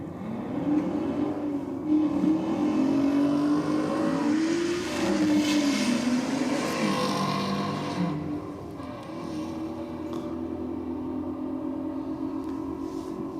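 Drag racing cars, an Audi and a Mustang, accelerate hard down the strip at Sydney Dragway, their engines roaring loud and steady for several seconds before easing off to a continuing distant drone.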